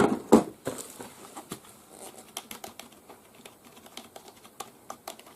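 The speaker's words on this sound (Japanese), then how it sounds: "文章をカチャカチャ打つ" Keys clack on a Logitech K275 wireless keyboard in quick, uneven bursts of close taps, a few louder strikes at the start, then a light, rapid patter; no one speaks.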